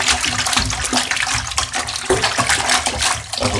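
Aquarium filter pad dropped and rinsed in a bucket of aquarium water, a loud continuous sloshing and splashing with irregular swells, close by and without speech.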